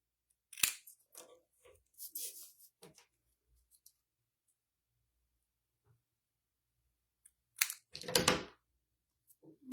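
Scissors snipping through paper for a handmade stamped card, two short bursts of close, crisp cutting separated by a long quiet gap.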